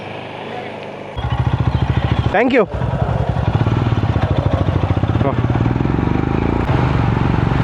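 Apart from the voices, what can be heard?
motorcycle riding on monsoon road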